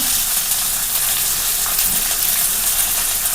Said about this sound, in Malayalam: ചെറിയ ഉള്ളി എന്നിട്ട് നന്നായിട്ടൊന്ന് വഴറ്റണം കേട്ടോ